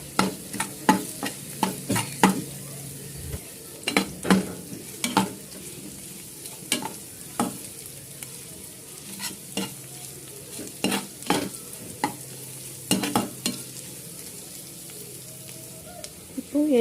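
Ginger frying in a pan for South Indian idli upma, with a steady low sizzle under repeated sharp scrapes and clinks of a spoon stirring at an uneven rhythm.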